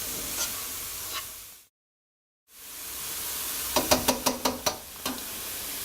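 Grated cauliflower frying in a little oil in a wok gives a soft, steady sizzle, broken by a brief silent gap, then a quick run of sharp scraping taps from stirring.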